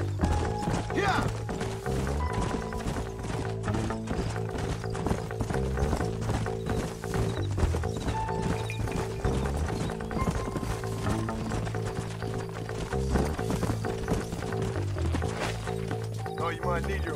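Horse hooves clip-clop continuously in the video game Red Dead Redemption, a steady rhythmic trot layered under music with voices talking over it.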